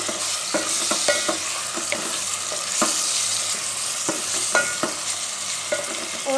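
Onions and tomatoes frying in a pan for dhaba-style methi aloo, a steady close sizzle broken by scattered clicks and scrapes of a spoon stirring, with no voices.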